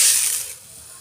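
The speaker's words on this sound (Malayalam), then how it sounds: "കടുക് പൊട്ടി തുടങ്ങി" Mustard seeds sputter and crackle in hot coconut oil in a pan, a loud close hissing fizz that fades after half a second.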